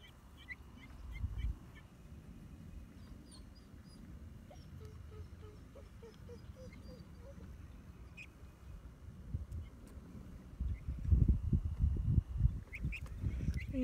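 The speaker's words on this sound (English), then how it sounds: "I want to show you what it's like to work with chickens." Backyard chickens cluck and call near a chicken coop that is being built outdoors, with soft repeated clucks over a steady low background and a loud rumbling burst near the end.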